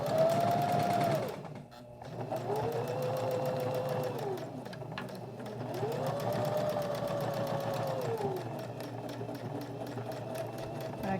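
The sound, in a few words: sewing machine stitching over ribbon on pouch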